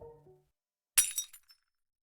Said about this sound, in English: knocking a jar from the shelf. It shattered loudly against the concrete floor.